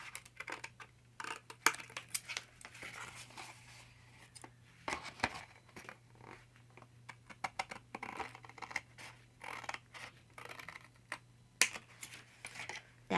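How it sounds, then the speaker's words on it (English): Scissors cut paper flaps off a handmade journal, with quiet, close, crisp snips and scratchy rustles in irregular bursts over a faint steady hum. "we're just going to flatten it out and come through and cut all the flaps off"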